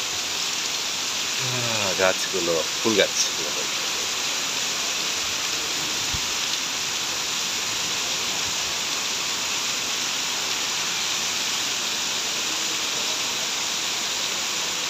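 Steady city rain pours down onto the street and parked cars, a dense continuous hiss that fills the whole stretch, with a person briefly speaking over it early on.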